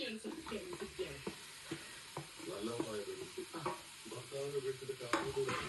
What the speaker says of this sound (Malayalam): നമ്മൾ നേരത്തെ മാരിനേറ്റ് ചെയ്ത് വെച്ച മഷ്റൂം നമുക്ക് ഇട്ട് കൊടുക്കാം.